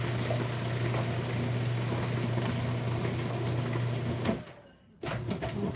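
A steady, close electric whir from a food processor grinding Biscoff cookies toward fine crumbs runs for several seconds, then stops briefly and starts up again.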